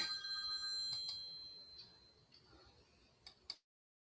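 A phone rings for an unknown caller, a faint electronic ringtone with a few short ticking clicks, quiet and close, ending abruptly.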